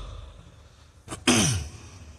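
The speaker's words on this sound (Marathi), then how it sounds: "काहीतरी खोकला सुरू झाला मला." A man at a public speech gives a short throat-clear, then a heavier cough that fades out, close to the microphone against a quiet background.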